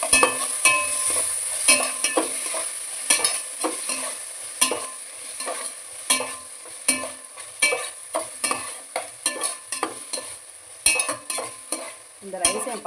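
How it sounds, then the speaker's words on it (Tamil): Crushed ginger stirred and fried in a pan while making coconut milk rice: steady sizzling broken by frequent sharp scrapes and clinks of a spoon against the pan, close and fairly loud, with no talking. "நல்லா போட்டுட்டு வறுக்கணும் ஃப்ரெண்ட்ஸ். இந்த ஸ்டேஜில் கொஞ்சம் நம்ம நசுக்கி வச்ச இஞ்சி கொஞ்சம் போட்டுக்கணும்"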